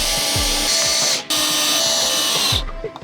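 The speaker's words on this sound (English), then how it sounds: "Commence the drilling." A power drill drilling into wood whines steadily at close range in two long bursts, stopping briefly between them, then winding down at the end.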